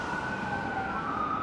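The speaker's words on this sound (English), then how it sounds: "Is it an ambulance? Is it a police car? Is it a fire truck?" An emergency vehicle siren wails along a city street in Vancouver's Olympic Village, Mount Pleasant, a steady sustained tone heard at moderate distance over faint traffic noise.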